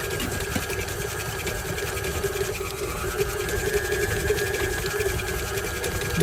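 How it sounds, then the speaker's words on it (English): An electric hand mixer beats white sugar into coffee cake batter, a steady whirring motor hum that holds constant and close throughout. "We're going to let that beat until it's fluffy."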